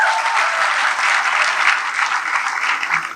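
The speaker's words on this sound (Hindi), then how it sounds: "आप तालियां बजा के आगे बढ़िए।" Audience at a college poetry recital in India breaks into steady, dense applause, a close wash of many hands clapping without pause for a few seconds, no voices over it.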